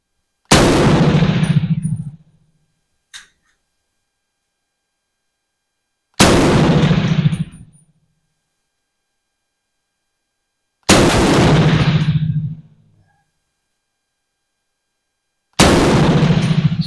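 BM59E rifle firing Indian 7.62x51 surplus ammunition outdoors: four loud, sharp shots spaced several seconds apart, each with a short booming echo tail, plus a faint metallic click after the first.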